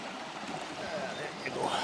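Murieston Water, a stream, flows and rushes steadily nearby as a continuous broadband wash, with faint bird chirps above it and no talking.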